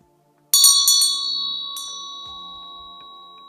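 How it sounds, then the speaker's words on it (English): A single meditation bell struck once, ringing clearly with a bright metallic tone that slowly fades over a few seconds in near silence. "Follow the sound of the bell."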